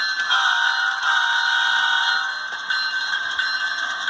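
A ScaleTrains HO-scale Tier 4 BNSF GEVO model locomotive sounds its horn, a steady multi-tone electronic blast held loud and close for about four seconds with no talking.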